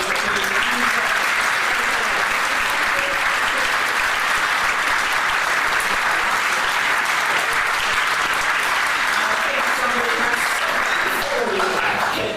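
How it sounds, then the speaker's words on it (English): An outdoor audience at an athletic track opening breaks into sustained applause, a loud, even wall of clapping that carries on for over twelve seconds, with a few voices faintly mixed in. "So give yourselves a round of applause for the money"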